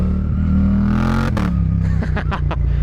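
A Suzuki GSX-8R sport motorcycle engine rumbles loudly and resonantly up close, its exhaust echoing off the road, then a burst of sharp pops and crackles comes from the exhaust during a quickshifter shift.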